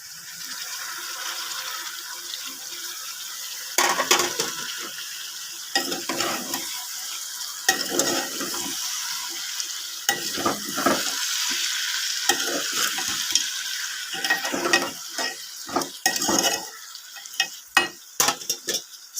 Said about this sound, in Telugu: ఇప్పుడు మనం కట్ చేసి పెట్టుకున్న టమాటా ముక్కలు దీంట్లో యాడ్ చేద్దాం.